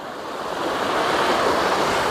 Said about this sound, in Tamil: இது ஒரு எவ்வளோ பெரிய அருவியாக வந்து கீழே தண்ணி ஓடுது